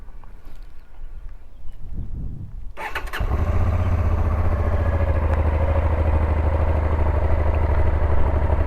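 A Honda Transalp V-twin motorcycle engine starts up after a few seconds of quiet rustling, then settles into a loud, steady, rumbling idle close by.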